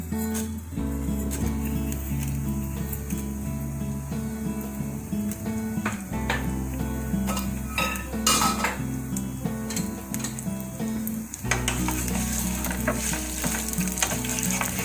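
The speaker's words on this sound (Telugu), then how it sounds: "ఆయిల్ కాగింది, ఇందులో మినపప్పు వేయించుకోవాలి" Urad dal frying in a spoonful of hot oil in a pan on a stove, a continuous sizzle with repeated stirring scrapes and occasional clinks of a spoon against the pan.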